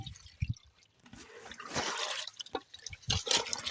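Water is poured from a ladle into a pot of fish curry, giving splashy, uneven pours and drips in short bursts, fairly quiet and close.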